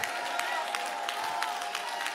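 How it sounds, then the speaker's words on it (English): Rhythmic hand clapping from a church congregation fills the room, steady and even, with a faint crowd murmur underneath. "Daughters of Judah, clap your hands and shout unto God"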